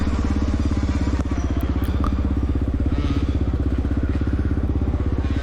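A 1993 Honda XR600R dirt bike riding downhill in a cross-country race, its single-cylinder engine thumping loud and steady throughout, heard close with a rapid even pulse and faint rattles over it.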